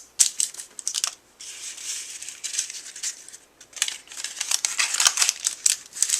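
Paper cupcake liners being pressed and flattened by hand, giving bursts of crisp crinkling and rustling that come and go over several seconds, close and fairly quiet with no voices.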